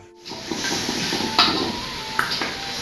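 Mixed vegetable curry cooking in a kitchen, with a steady sizzle and hiss from the pan, soft stirring scrapes and a few sharp clinks of utensils against pots throughout.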